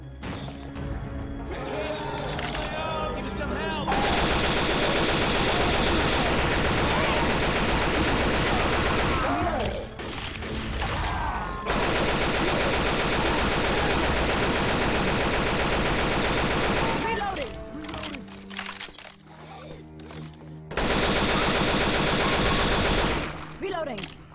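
Sustained automatic gunfire with incendiary ammo in the video game Left 4 Dead 2 roars in long loud bursts, broken by short gaps where game sounds and a voice come through.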